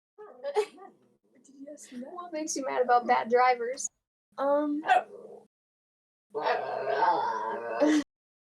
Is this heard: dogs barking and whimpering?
yes